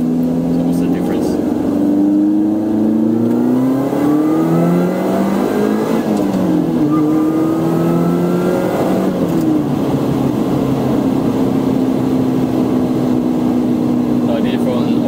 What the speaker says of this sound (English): So I did from all the way 2000 RPM to 7000 RPM. And hopefully you guys can hear the supercharger noise.